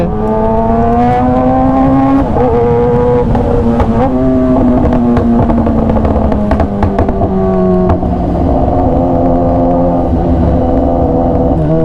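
A green Kawasaki ZX-10R superbike revs steadily while being ridden in traffic, its engine note loud and continuous with pitch rising and falling through the gears for the whole stretch, no voices over it.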